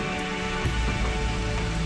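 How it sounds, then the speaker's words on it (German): Rain falling on a sailboat at sea off Fiji, a steady dense hiss of drops drumming on the deck and canvas cover, continuous and close with no voices. "Und wir sehen nichts als Regen."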